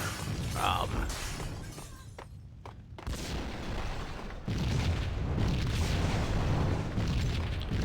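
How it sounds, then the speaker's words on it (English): Glass shatters in a burning restaurant in the Max Payne video game, with crashing breaks and bursts over a roaring fire background and brief quieter gaps between loud sections. "The restaurant seems to be a bit on fire."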